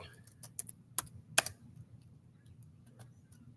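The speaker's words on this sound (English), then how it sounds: "I'm typing in the wrong thing." Quick bursts of clicky keystrokes on a computer keyboard, close and quiet, with a few sharper taps early then sparser light presses, over a low background hum.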